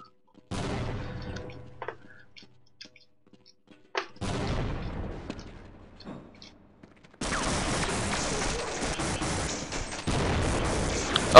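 Cannon blasts and gunfire from a tank attacking the player in the video game Half-Life, several loud bursts with rumbling tails separated by short gaps, ending in a long, dense roar.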